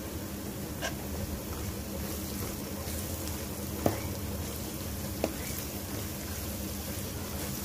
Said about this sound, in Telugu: ఇప్పుడు ఇందులో అల్లం వెల్లుల్లి పేస్ట్ వేసుకుందాం, అలాగే పసుపు వేసుకుందాం